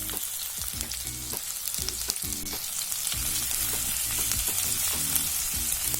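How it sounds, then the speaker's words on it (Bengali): Sliced small onion frying in a pan while being lightly stirred, a loud steady sizzle with repeated rhythmic spatula knocks throughout, nearby with no talking. "এখানে আমি একটা ছোট পেঁয়াজ স্লাইস করে নিয়েছি, সেটা দিয়ে দিচ্ছি ও একটু হালকা নাড়াচাড়া করছি।"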